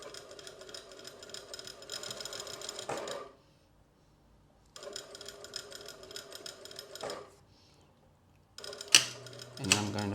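A sewing machine stitches fabric for a tailored women's jacket in two steady runs of fast mechanical whirring and clatter separated by a pause, ending with short, sharper bursts of clicking close by.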